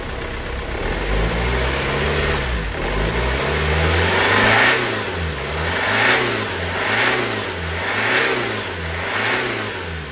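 A Ford Transit van fitted with an M47 diesel engine revs hard, its loud, close exhaust note climbing and falling in repeated surges over a steady idle, with no talking.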